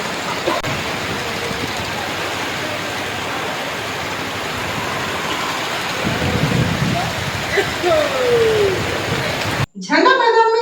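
Torrential evening rain pours down in a steady, dense roar on surfaces for about ten seconds, then cuts to a brief stretch of a person talking at the very end.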